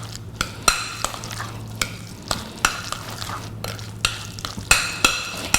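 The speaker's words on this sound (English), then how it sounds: "And then we're just going to give it a good stir." Guacamole ingredients stirred in a bowl, a spoon clinking and scraping against the bowl in repeated close strokes over a low steady hum.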